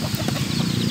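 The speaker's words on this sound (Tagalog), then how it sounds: "yan na yung mga manok." Chickens cluck in a village, a short burst of low, busy clucking close by with a rustling background.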